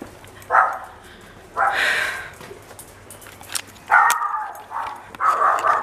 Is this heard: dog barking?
yes